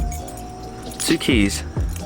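Keys for a 1998 Pontiac Firebird jangling and clinking in short bursts close by, heard alongside someone talking.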